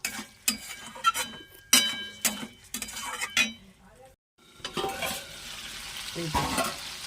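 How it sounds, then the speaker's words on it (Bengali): Snakehead fish pieces being sautéed in spices in a pan, with bursts of sizzling and the scrape and clink of a spatula against metal, broken by a brief quiet gap before the frying resumes. "মাছটাকে আমাকে ভালো করে কষাতে হবে ওই জন্য মাছটা আমি তুলে দিলাম মাছটাকে আমি ভালো করে কষিয়ে নেব"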